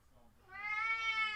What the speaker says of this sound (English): Oh my gosh, my cat is driving me insane.